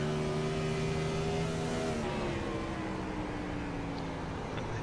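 Gen 4 Cup Series race car in First Gear Racing, its engine droning at steady high revs as the throttle is held back, pitch sagging slightly then lifting again, loud and continuous with no talk.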